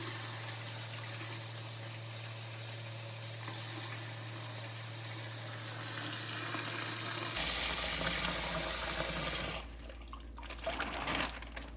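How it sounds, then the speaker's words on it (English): Water gushes steadily from a tap into a plastic bag holding a carp to defrost, a constant rushing hiss over a low hum, turning splashier and uneven near the end. "now we're gonna fill this plastic bag I have it in with water to defrost it faster"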